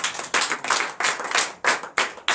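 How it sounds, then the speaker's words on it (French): Congregation at a church service in Comè, Benin clapping in praise, a bursty run of about seven loud rhythmic waves of hand claps, close and without speech. "Donnez l'acclamation au Seigneur"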